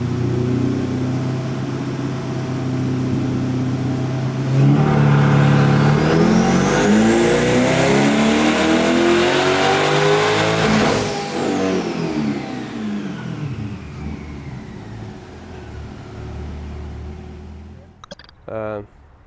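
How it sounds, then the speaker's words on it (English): A twin-turbo C8 Corvette running on methanol, strapped to a hub dyno, revs hard as its engine note climbs steadily to a high scream, then drops off and settles back to a lower idle, loud and close. "We're running on the hub dyno, this car, and we've been dynoing methanol."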